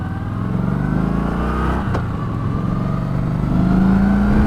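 A 2018 Kawasaki Vaquero motorcycle engine heard up close while riding, a steady throaty drone that rises in pitch as it revs up near the end, with wind rush and no talking.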